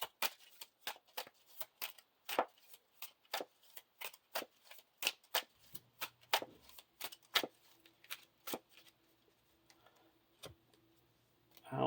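Cards from a deck being shuffled for a Lord of the Rings card game, a fast run of crisp riffling clicks and snaps that thins toward the end, with a low hum entering partway through.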